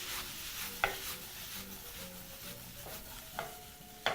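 Corn and peas tossed with vegetables in a hot pan, a soft sizzle broken by several sharp scrapes and clinks of the utensil, quiet and close.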